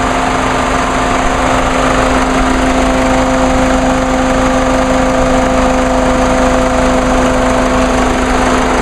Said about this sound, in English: that cooling fan is on full blast.